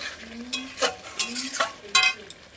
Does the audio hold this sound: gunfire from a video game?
no